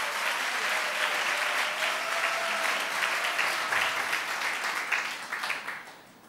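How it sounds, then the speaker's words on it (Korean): A church congregation applauds together in steady, dense clapping that holds for several seconds and then tapers off, with a faint tone running beneath the crowd noise. "우리 박수 한번 치시길 바랍니다."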